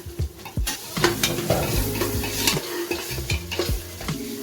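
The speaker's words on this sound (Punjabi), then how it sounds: "ਹੁਣ ਅਸੀਂ ਇਹਨੂੰ ਵੀ ਉਦੋਂ ਤੱਕ ਭੁੰਨਣਾ ਜਦ ਤੱਕ ਇਹਦਾ ਪਾਣੀ ਨਹੀਂ ਸੁੱਕਦਾ" Spiced masala for Punjabi aloo matar fries and sizzles in a pan while a spoon scrapes and stirs it in steady, close strokes, with no talking.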